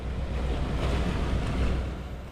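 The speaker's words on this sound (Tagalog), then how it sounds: "Lakas ng hangin." Strong wind blowing over open sea with breaking surf, a steady broadband roar with wind buffeting the microphone, loud and continuous throughout.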